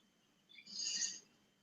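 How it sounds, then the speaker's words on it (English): Pet birds chirp indoors with a brief, faint, high twittering burst in an otherwise quiet room, and no one speaks. "There are birds."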